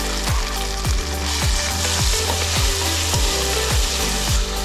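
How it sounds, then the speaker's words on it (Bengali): Onion paste with cinnamon, bay leaf and ginger-garlic paste fries loudly in an oiled pan, a close, continuous sizzle marked by regular scraping stir strokes about twice a second. "পেঁয়াজ বাটা কিছুক্ষণ নেড়ে নিব"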